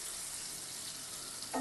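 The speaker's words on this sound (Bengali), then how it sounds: "আলুগুলো আমি হালকা ভেজে তুলে নেব।" Sliced, lightly salted potatoes fry in a pan with a soft, steady sizzle throughout, and a brief clatter comes near the end.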